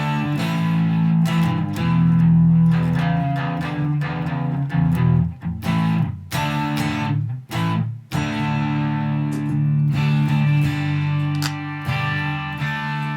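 Electric guitar played through a distortion effect, a thick, sustained overdriven tone with chords and notes ringing continuously and loudly, with brief dips between phrases.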